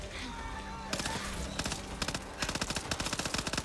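Rapid gunfire in the zombie shooter Back 4 Blood, first scattered shots and then bursts of fast automatic fire, loud and close, with voices talking underneath.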